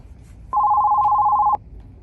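A telephone rings once for an incoming call, a single steady electronic tone lasting about a second, loud and close against a quiet background.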